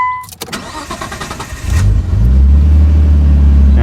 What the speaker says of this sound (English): if it works when I rev it to 3K,